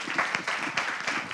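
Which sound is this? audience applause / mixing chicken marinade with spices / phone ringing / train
audience applause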